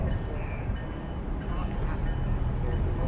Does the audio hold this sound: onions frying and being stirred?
no